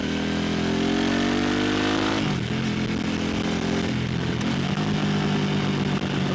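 A 2022 Harley-Davidson Pan America motorcycle engine rumbles loudly and close by, its pitch rising in a rev before settling into a steady, throbbing idle, with no talking.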